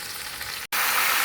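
Meat for nihari fries in a pot with a steady, close hiss and crackle. The sizzle cuts out for a split second, then returns a little louder.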